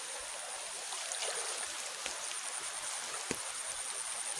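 River water flows steadily during wading across, a loud, continuous broadband rush with occasional small splashes and knocks, no talk.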